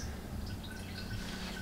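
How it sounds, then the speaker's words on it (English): Liquid drips slowly during homebrewing of beer from an extract kit, small faint intermittent drops sitting over a steady wash of background noise, with no talking. "Drip, drip, drip. I mean, it's not much."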